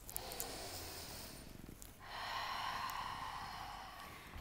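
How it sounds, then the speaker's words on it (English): A long audible open-mouth exhale during a yin yoga breathing exercise, a soft breathy rush of air that fades, followed by a stronger, fuller exhale lasting a couple of seconds. "Cleansing, audible open mouth exhales."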